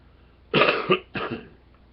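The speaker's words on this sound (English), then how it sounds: "Got a cough." A man gives two harsh, close coughs in quick succession, the first longer and the second shorter, alone against quiet.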